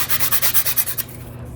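Quick rhythmic rasping strokes of a nail file sanding the cut edge of a cast mold piece, about ten close strokes in a second, then fading to quiet.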